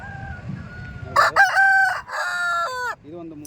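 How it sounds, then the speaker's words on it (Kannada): A rooster at a native-breed rooster market in Chintamani crows once, loud and close, a long wavering call of about two seconds after faint background murmur. "ಮೈಸೂರು ಇಲ್ಲೊಂದಿದೆ ಕೋಳಿ"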